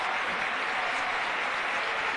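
A basketball crowd at an Avenida versus Girona game cheers and applauds, a dense, loud, continuous roar filling the whole moment.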